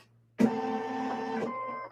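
Embroidery machine stitching out a design on a shirt, starting abruptly and settling into a steady mechanical hum with tonal whir, then a shift in pitch as it jumps to a new spot.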